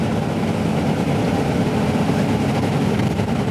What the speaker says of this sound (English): get onto a bus like this one, which is a Bonluck CityStar Articulated bus